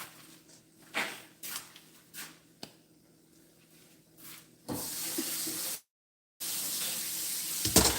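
Tap water runs steadily over oyster mushrooms being washed in a kitchen sink, preceded by a few soft handling clatters, then a broad hiss that pauses briefly before resuming.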